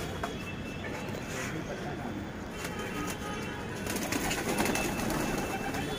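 Pigeons in a home pigeon loft, soft cooing mixed into a steady, fairly faint background hum and rustle throughout.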